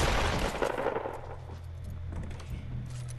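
Gunfire in Fortnite: a quick burst of shots at the start fades into quieter, scattered shooting, moderately faint with no talking.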